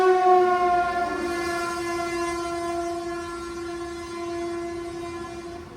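An intercity train pulls away at Ahmedabad station, its horn sounding a long, loud, steady multi-toned blast that holds for several seconds over the low rumble of the moving train.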